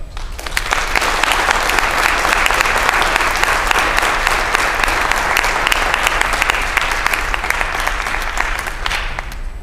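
Sustained, loud applause from a room of school staff at an inservice keynote, dense steady clapping filling the full stretch with no break and fading slightly at the end.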